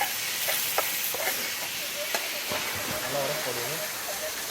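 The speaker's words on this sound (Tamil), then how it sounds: "எல்லாம் போட்டு நல்லா மிக்ஸ் பண்ணிக்கலாம்." Food cooked on a stove is stirred and mixed with salt and spice powder: a steady sizzle with repeated scraping and clinking stirs, and voices talking faintly behind it.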